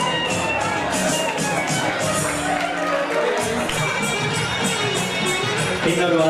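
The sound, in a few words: loud applause from women in the audience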